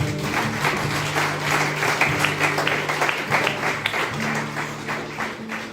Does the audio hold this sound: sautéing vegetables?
no